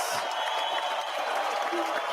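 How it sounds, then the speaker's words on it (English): An audience at a scholarship and recognition awards ceremony applauds a guest with a brief burst of dense clapping, moderately loud, while a voice speaks over the top. "Give her a big round of applause."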